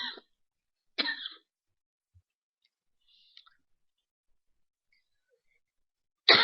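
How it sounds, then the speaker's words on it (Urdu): A woman coughs and clears her throat in a few sharp, close bursts separated by silence, with a faint click in the middle and another cough at the end. "آپ لوگوں کو میری آج نا تھوڑی کھانسی برداشت کرنی پڑے گی"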